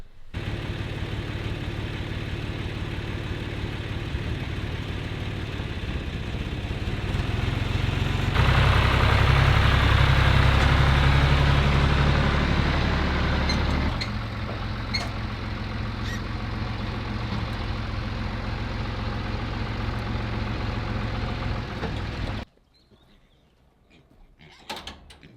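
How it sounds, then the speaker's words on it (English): A farm tractor engine runs at a steady drone, swelling louder and deeper for several seconds mid-clip before settling back, then cutting off abruptly near the end. "now I really must get on that tractor and take the trailer to get these piglets sorted"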